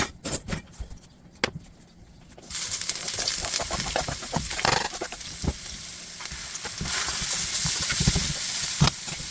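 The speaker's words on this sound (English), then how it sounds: "We're going to chuck all of our herbs and spices and this fish in there, sear it all off" Stingray chunks with herbs and spices hitting hot oil in a wok, first a few soft clinks, then a sudden loud hiss and sizzle that continues with crackles and pops, no voices.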